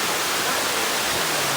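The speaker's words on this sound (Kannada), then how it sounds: "ಪಕ್ಕ ಆಂದಿ ಮೇಲೇ ಇದೊಂದು ಚಿಕ್ಕದು ಫಾಲ್ಸ್ ಇತ್ತು, ತೀರ್ಥಕೆರೆ ಫಾಲ್ಸ್ ಅಂತ" The small Theerthakere waterfall roars as a steady, dense rush of falling water, loud and unbroken throughout.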